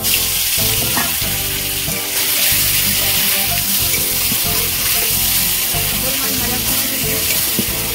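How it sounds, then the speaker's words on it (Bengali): Snakehead fish pieces fry loudly in hot oil in a wok over a wood-fired stove for a raw-mango curry, giving a dense, steady sizzle with scattered crackles and occasional clatters throughout. "তেল গরম হয়ে গেছে, মাছগুলো আমি কড়ার মধ্যে ঢেলে দেব"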